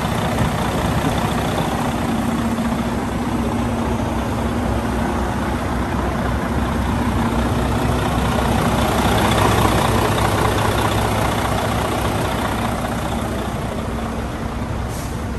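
A 2014 Freightliner Cascadia 113 truck with a Detroit 450 engine and manual ten-speed idles nearby, a steady low diesel rumble with a faint constant hum, running unchanged throughout.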